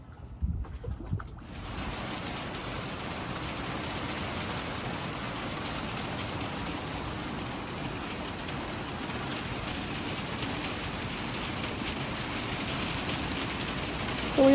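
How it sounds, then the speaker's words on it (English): Rain mixed with sleet pelts a cruising boat in a steady, dense hiss and patter, close and continuous, following a brief quieter moment at the start. "We actually had sleet coming down for a few minutes along with the rainstorms."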